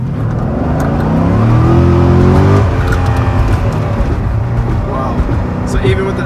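A 2007 Corvette C6 Z06 launches hard from a stop in first gear, its engine revving loudly with a climbing roar, then a gear change and continued pull, with faint tire noise and a person talking in the car.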